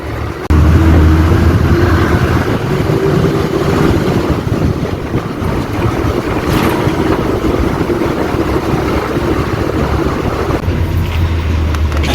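A vehicle rolls steadily toward a bridge on a crowded journey through the Konkan countryside, with a continuous loud low rumble and rattling throughout, no voices.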